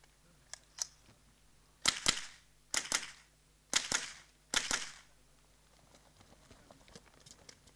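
Minirifle shots fired at targets during a shooting championship stage, six sharp cracks, mostly in close pairs, spaced about a second apart, then quiet range ambience.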